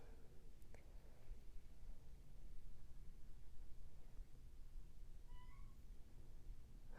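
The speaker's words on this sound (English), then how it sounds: "It's my kitty cat." A pet kitty cat meows a few faint times, fairly distant indoors, with thin rising calls toward the end over steady background hiss.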